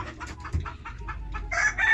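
Native chickens at a poultry farm cluck in short irregular bursts, close and moderately loud, with a louder squawk toward the end.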